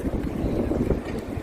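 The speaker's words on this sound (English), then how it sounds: "Alright, hello windy day." Wind gusts outdoors, buffeting the microphone with a continuous low rumbling roar that swells and fades over a second and a half, with no voices.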